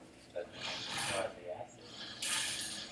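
Water is poured during a classroom acid-base neutralization demonstration, giving two bursts of splashing hiss under a teacher's voice and room noise.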